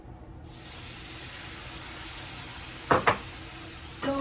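Bacon and corned beef frying in a pan, a steady close sizzle and hiss with a couple of brief sharp clatters partway through.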